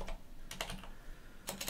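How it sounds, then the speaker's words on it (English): Computer keyboard typing: a few quick, light key clicks in short bursts, close and fairly quiet, with pauses between. "what am I typing?"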